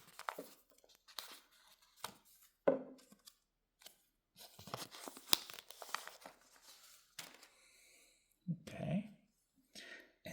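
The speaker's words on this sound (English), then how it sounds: "by ungluing this paper cover." Paper cover on a Samsung Galaxy M15 box is unglued and peeled away, giving quiet intermittent tearing, crinkling and clicking noises with scattered soft handling sounds and brief pauses.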